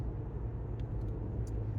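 A Chevy Bolt electric car coasts down a mountain road under regenerative braking, a steady low rumble of tires and road noise heard from inside the cabin, fairly quiet and continuous.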